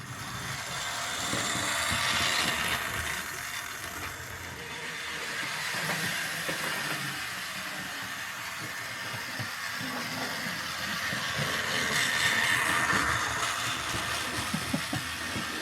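A Tri-ang R52S model steam locomotive with Synchrosmoke, DCC fitted, hisses and chuffs continuously nearby, its steam swelling and easing, with faint mechanical rattling.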